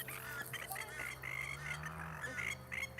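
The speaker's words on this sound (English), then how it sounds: "They're plovers. They make lots of noise." Plovers call repeatedly in sharp, shrill bursts over a low steady background hum, the cries coming quick and close together at a moderate distance.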